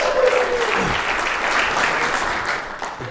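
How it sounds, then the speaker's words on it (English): Applause from an audience at an AI community meetup's second-anniversary gathering fills the room, a dense, loud burst of clapping that holds steady and then begins to thin toward the end. "Let's give a round of applause."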